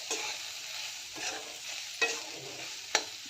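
Okra bhaji with ginger-garlic paste stirred in a pan: quiet frying hiss broken by a few distinct metallic scrapes and clinks of the spoon, the last one sharpest, with no speech.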